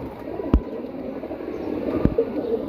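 A female pigeon of the Mujabai type coos softly in low murmuring phrases nearby, broken by two sharp knocks, with no talk.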